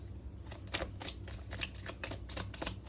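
A deck of tarot cards being shuffled up close, a run of crisp riffling bursts that repeat every half second or so, fairly loud and steady with no voices.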